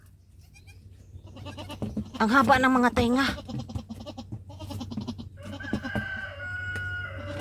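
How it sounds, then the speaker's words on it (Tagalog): A small newborn kid goat with long ears bleats among other farm animals, its cries rising over someone talking nearby, with rooster crowing and other bleats in the background. "Baby goat."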